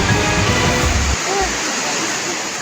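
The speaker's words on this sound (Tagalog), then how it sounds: "Malakas ang ragasaan ng kulay tsokolating ilog sa Don Marcelino, Davao Occidental, bunsod ng malakas na ulan." A swollen, chocolate-brown river surges after heavy rain in Don Marcelino, Davao Occidental, its loud, steady roar of rushing water filling the scene without a break.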